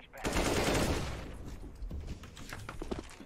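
Gunfire in a sandbox video game, a rapid burst of automatic shots that fades into scattered single cracks, moderately loud throughout.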